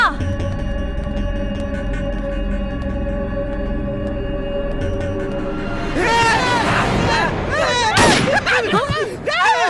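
A gunshot rings out in a Tamil movie scene, a sharp burst landing amid a dense music score, with shouting voices following close behind.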